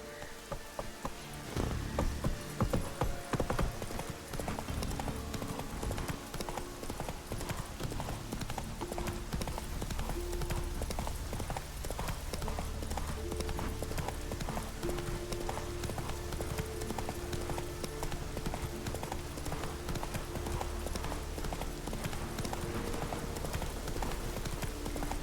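Roach, a horse in The Witcher 3, gallops with rapid, steady hoofbeats that run loud and continuous for most of the clip, set against a dense game soundscape with music.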